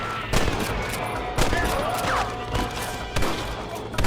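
Gunfire in the Red Dead Redemption video game: a fusillade of sharp shots cracking at irregular intervals, several close bursts over a constant noisy backdrop, with no speech during the shooting.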